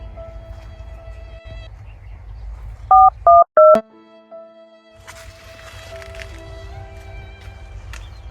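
A phone keypad is dialed to call a technician: three short, loud beeping tones in quick succession over a low background hum, followed by faint room noise.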